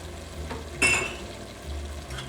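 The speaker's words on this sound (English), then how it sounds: "let me chop up an onion and we'll put it in here with the ground beef and the carrots" Chopped onion drops into a pan of browning ground beef and carrots for vegetable beef soup, giving a sudden loud sizzle burst that settles back into a steady low frying hiss.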